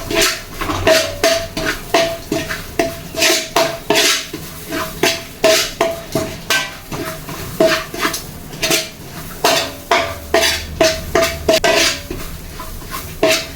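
Repeated metal scraping and clinking of a ladle stirring sweetened flattened rice (aval) and grated coconut in a large uruli pot, a steady rhythmic series of loud strokes with no talking.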